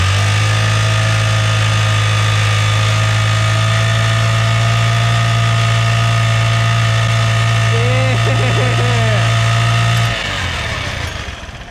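A Honda Elite 80 scooter engine runs at a loud, steady idle close by for about ten seconds, then sputters and dies, leaving only a faint fading tail.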